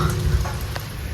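Steady rain falls on a farm in Gujarat, a dense, even hiss of drops with a few soft patters, continuous and fairly close, with no voices.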